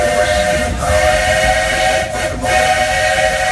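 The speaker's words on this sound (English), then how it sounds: "trains that powered the golden age of steam" A vintage steam locomotive on the Walt Disney World Railroad rolls along the rails at the Magic Kingdom with a loud, close, continuous hiss and rumble and brief dips in the noise.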